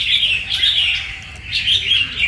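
A wild-caught lead songbird of the lân tê type from the limestone mountains of Lạng Sơn chirps in a steady run of bright, high tweets, close and fairly loud, with no voices.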